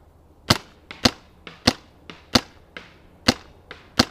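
An R7 air rifle fires at a hanging target about 50 yards away, producing a rapid series of about nine to ten sharp, close cracks spaced roughly half a second apart.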